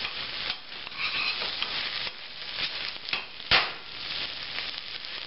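Onions caramelizing in a soup pan for green chili soup, stirred with a spoon: soft continuous sizzle with repeated scraping strokes and one sharper knock against the pan, close up.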